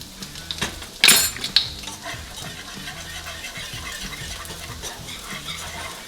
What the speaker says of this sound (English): now you're going to continue to stir this roux until it becomes a dark brown color